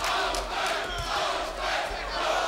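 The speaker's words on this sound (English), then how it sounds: "the chant from the crowd of Lopez, Lopez" Boxing arena crowd at a Kostya Tszyu vs Hector Lopez fight roaring and chanting Lopez's name in a steady, rising-and-falling rhythm, a dense wash of many voices filling the hall with no single speaker standing out.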